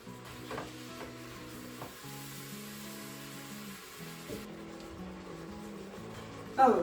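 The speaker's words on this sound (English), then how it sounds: "And once the beef is about halfway browned, we can add the onions." Beef browning in a Crockpot Express gives a soft, steady sizzle, with an occasional stirring scrape and a louder clunk near the end, close with no speech.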